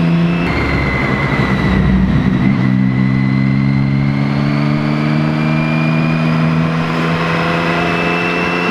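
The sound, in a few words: Triumph Street Triple R motorcycle engine revving with exhaust baffle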